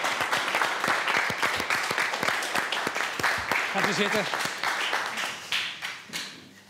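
Warm audience applause for the judge fills a courtroom-style television studio, a dense run of claps that tapers off toward the end while a voice briefly speaks over it.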